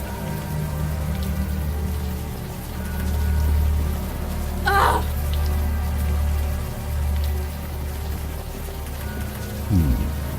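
Warm rain falls steadily in Unavowed, a continuous hiss of drops under faint low hum, with a brief whoosh in the middle and a short thump near the end.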